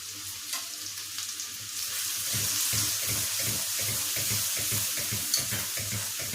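Chopped onion sizzling in a pan of oil with red chilli powder and onion-garlic masala, a steady frying hiss with rhythmic stirring scrapes that grow busier partway through, close and alone.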